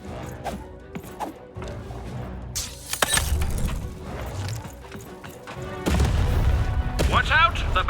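Cannon fire in the video game Lost in Random, with sharp booming blasts and shattering crashes that rise to a loud, dense volley near the end amid game sound effects.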